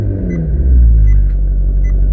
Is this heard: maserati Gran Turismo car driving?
yes